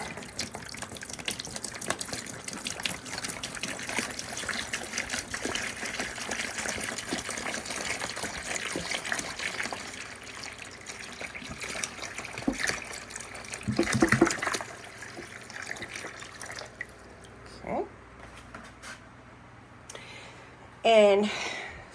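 Plain water pours from a jug into plant pots in an indoor grow room, a continuous splashing gush that runs for a long stretch, then fades into a few shorter pours and trickles as a voice talks.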